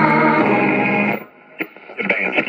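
A Mocha Brown Bakelite 1950 Jewel Wakemaster Model 5057U vacuum tube AM clock radio plays loudly and richly for about a second. It then drops to quieter, broken bursts of broadcast sound and static.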